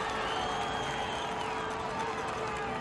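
Large crowd noise at a 1991 high school football game between Ansonia and New London, a steady wash of murmuring spectators and scattered cheering heard from a distance with a faint commentary voice beneath it.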